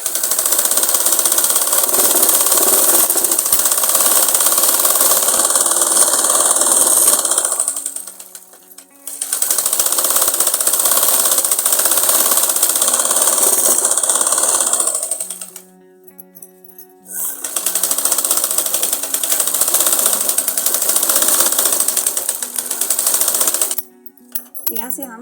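Sewing machine stitching a girl's umbrella frock, a loud steady close-up whirr running in long bursts with brief pauses between them.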